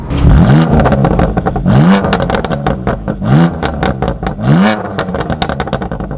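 A powerful BMW M2 Competition engine revs hard in repeated rising bursts, each climb followed by a drop, loud and close with no talking.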